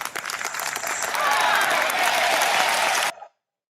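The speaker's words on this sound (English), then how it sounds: "I don't know why we're clapping." Gallery crowd clapping for golfer Nichols during the third round of the PGA Championship, a dense, steady wash of applause that swells slightly and then cuts off abruptly.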